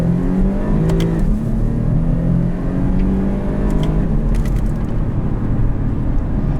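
A 2016 Porsche Panamera 4 with its base engine pulls hard, a loud, steady, rising engine drone heard close from inside the cabin, continuous throughout with no talk over it.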